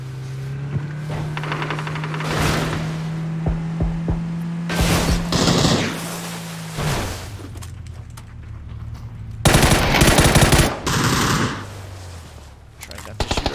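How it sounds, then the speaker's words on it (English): Rapid automatic gunfire in a shooter video game, bursting in several loud volleys with pauses between, under a player's voice talking and a steady hum from the game. "Trying not to shoot our teammate in the back right there"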